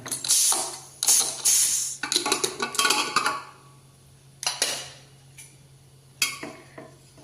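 A pressure cooker lid is twisted open in a home kitchen after the pressure has been released. Close metallic clanks and rattles come in bursts over a steady low hum, then a few separate clicks, with no talk.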